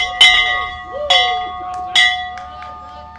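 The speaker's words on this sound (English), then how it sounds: "Ring the bell, Zach." A bell rings at an outdoor high school graduation ceremony, with four clear metallic strikes spaced under a second apart, each ringing out and decaying, fairly close and loud.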